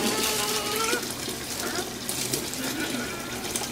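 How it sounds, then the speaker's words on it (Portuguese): Water running from a tap in a shower, a loud steady hiss and splash that continues throughout. "Só abre um pouquinho essa torneira. Só pra dar mais esquentadinha na água."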